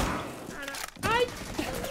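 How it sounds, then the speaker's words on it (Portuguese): Dense gunfire crackles from all sides in a Rainbow Six Siege match, a steady wash of rapid shots with a brief lull midway before the barrage resumes loud and close. "É tiro de todo lado, velho."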